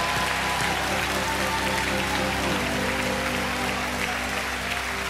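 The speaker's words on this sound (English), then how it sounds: "give God a hand clap of praise tonight" Congregation applauding in praise at a church family camp service, a steady, even wash of clapping sustained at moderate level throughout, with a low hum underneath.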